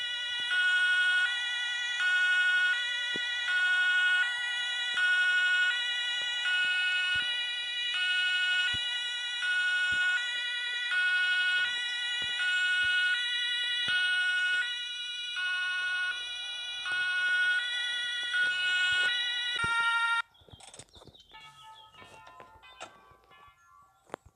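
Emergency vehicle siren in Hamburg, a loud steady electronic wail with layered tones holding for about twenty seconds, then cutting off abruptly and leaving quieter street noise.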